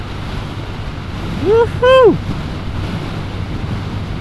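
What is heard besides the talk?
strong wind blowing on a motorcycle ride along the coast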